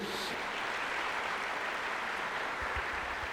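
A church congregation claps during a morning service, a steady, even wash of applause from many hands heard from a little distance, with a few low thumps near the end.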